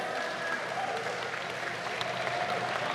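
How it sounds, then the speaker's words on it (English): Steady audience applause fills the room at a Super Smash Bros. Ultimate esports tournament final, a dense continuous clatter of many hands with faint crowd noise mixed in. "Can we have a massive round of applause for Maji"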